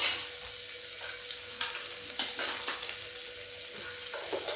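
Onion and garlic sizzle steadily in a hot pan while a ridge gourd (taroi) curry is being made. A spoon stirs now and then, adding scraping bursts over the continuous close frying hiss. No one speaks.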